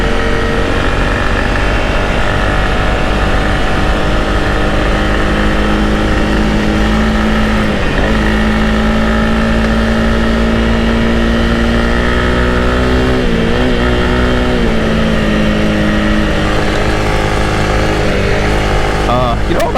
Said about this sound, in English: Ridge Road Loop. Here we go. Play with my body position a little. Some loose gravel.